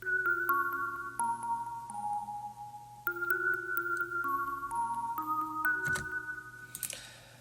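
A layered synth part in a progressive house verse, playing sustained stepping tones that shift pitch every second or so, steady and mid-loud, alone with no voices.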